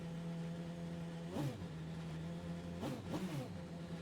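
A BMW hypercar engine in Gran Turismo 7 drones at a steady tone, with several quick rising rev sweeps as the car accelerates. The sound is fairly faint and clean, with no voices.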